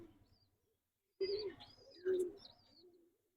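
Racing pigeon from a result-winning loft giving two low, throaty coos in quick succession, faint and close, in an otherwise quiet space.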